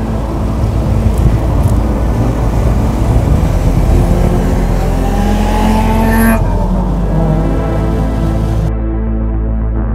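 Toyota BTCC touring race car running at speed, a loud, close, continuous engine roar with wind noise that shifts in pitch as it moves past, then cuts off abruptly near the end.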